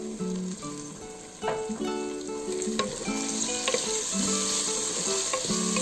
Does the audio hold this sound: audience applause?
no